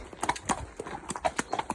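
A black mare's hooves clip-clop at a walk, a quick uneven run of about a dozen crisp, close hoof strikes on a hard surface with no voices.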